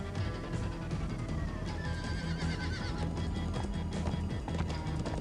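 A horse in Minecraft: Story Mode whinnies repeatedly over steady galloping hoofbeats and a dense, continuous background, all loud and close.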